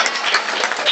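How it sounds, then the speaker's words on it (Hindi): An audience bursts into dense, steady applause at a felicitation event honouring a topper, the clapping close and loud throughout the brief moment. "ताली होना चाहिए।"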